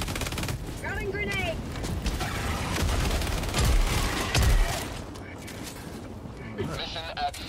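A thrown grenade explodes amid gunfire in the video game Helldivers 2, with rapid bursts of shots and a couple of deep booms midway, as players talk over the battle.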